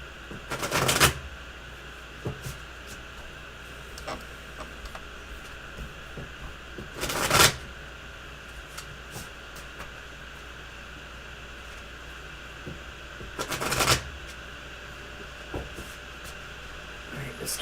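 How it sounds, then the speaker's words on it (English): A deck of tarot cards being shuffled in three short riffling bursts, spaced several seconds apart, with quiet room noise and small handling sounds in between. "it's a nice, easy to shuffle deck of yours"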